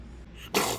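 A single short, sharp sneeze bursts out after a moment of quiet, close and fairly loud, in an indoor room.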